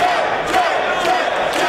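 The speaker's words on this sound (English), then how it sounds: "the crowd showing their support and respect to Jay Lethal" Large professional wrestling arena crowd at a Ring of Honor event cheering and roaring in a steady, loud wash of voices.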